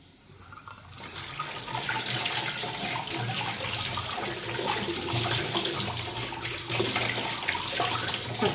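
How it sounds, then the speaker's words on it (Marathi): Water splashes and runs over a cleaned copper or brass vessel as it is rinsed, a broad, steady gushing that starts after a brief quiet moment and continues loudly to the end, with no voices. "आपण याला वॉश करून बघू आणखीन"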